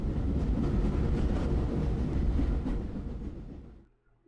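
A train in An English Haunting rumbles and rattles with a dense, steady low roar, then fades out to near silence at the end, with no talking over it.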